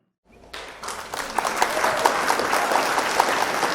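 Applause from the audience at a satirical Hindi poetry gathering, starting abruptly after a brief silence and swelling into dense, sustained clapping from a large crowd.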